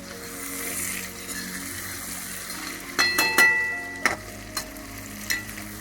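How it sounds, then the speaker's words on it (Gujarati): Stuffed okra fries in oil in a pan with a steady close sizzle, joined partway through by several sharp clinks and scrapes of stirring. "હવે આપણું તેલ ઉપર આવી ગયું છે અને ભીંડો પણ ચડવા જ આવ્યો છે."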